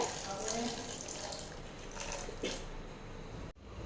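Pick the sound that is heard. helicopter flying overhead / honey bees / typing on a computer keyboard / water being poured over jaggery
water being poured over jaggery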